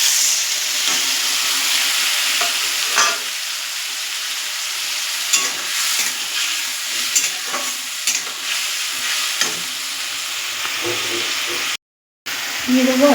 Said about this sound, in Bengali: এবার আমি এখানে যে মশলার পেস্টটা করে রেখেছিলাম সেটা দিয়ে দেবো।